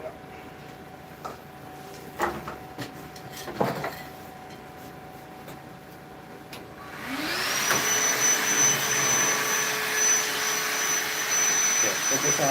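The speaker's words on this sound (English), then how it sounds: "So let's move some of this. Vacuum it up." A shop vacuum sucks sawdust off a cast iron woodworking surface, switching on about halfway in as a loud, steady roaring whine that lasts to the end, after a quieter stretch of scattered knocks and shuffling.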